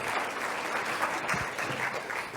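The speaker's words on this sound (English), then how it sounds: "Oh, how about a big clap for Tom?" A live audience claps steadily and loudly for the whole stretch, a dense, even wash of applause with no voices standing out.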